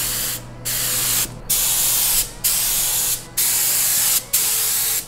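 Base coat spray paint goes onto a Radcharger figure in five loud, close hissing bursts from an aerosol can, each lasting under a second, separated by short pauses.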